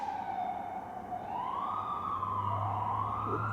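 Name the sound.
police siren passing outside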